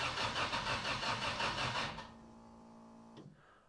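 A turbo-swapped project car's engine cranks in a steady, loud rhythmic churn for about two seconds without catching, then stops, leaving a low hum and a brief clunk.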